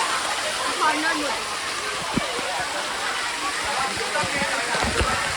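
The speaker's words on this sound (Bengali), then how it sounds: "এই জায়গাটায় পুরো ওপর দিয়ে জল আসছে" Water pours down from overhead at a water park, a loud, continuous splashing rush like a heavy downpour, with faint voices of people nearby mixed in beneath it.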